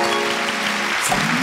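A studio audience applauds for children taking part in a televised holiday special, a steady wash of clapping over the brief moment.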